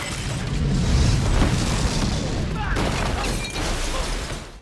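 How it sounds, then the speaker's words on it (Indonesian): A bomb goes off in a film scene, a loud deep boom that spreads into a broad rumbling blast with debris-like bursts, then fades out. "Will punya firasat buruk jika bom tersebut akan segera meledak"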